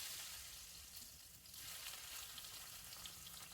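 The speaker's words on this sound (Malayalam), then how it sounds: "ആദ്യം ഒരു പാൻ വെച്ച് നെയ്യ് ഒഴിച്ചു കൊടുക്കാം" Ghee heating in a pan before cashews go in makes a soft, continuous hissing sizzle, faint and even throughout with slight swells, nobody talking.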